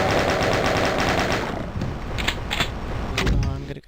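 Rapid, loud gunfire from a shotgun in the video game Doom, a dense burst of repeated shots up front that thins into a few separate mechanical clanks and thuds.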